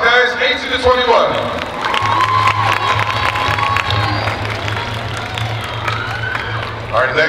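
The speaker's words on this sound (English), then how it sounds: "First round of applause, guys." A crowd at a Tahitian dance competition cheers and applauds the 18-to-21 soloists, loud clapping mixed with shouts and whoops that rise and fall over several seconds, with some voices and a low sustained tone underneath.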